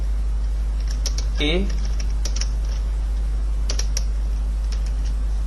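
Computer keyboard typing while Python code is written, several sparse clicks and short key bursts spread across the moment, fairly quiet, with a brief spoken syllable in between.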